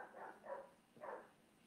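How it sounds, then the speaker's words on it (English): A neighbor's dog barks outside at night, two or three faint, muffled barks heard from a distance through walls, with no talking. "And there's the neighbor dog saying hi like they do every night."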